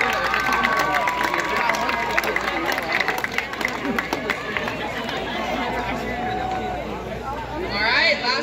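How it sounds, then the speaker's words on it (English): Crowd at a high school homecoming rally breaks into applause and cheering, a dense, steady wash of clapping and voices with babble throughout and a louder swell near the end. "Let's give them another round of applause."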